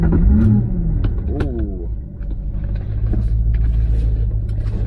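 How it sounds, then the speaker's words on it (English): A 1998 Lexus SC400 engine cold-starts up close: a brief whirring crank, then a loud, steady low idle rumble, with a short exclamation from a person near the start. "we're gonna go ahead and do a quick cold start"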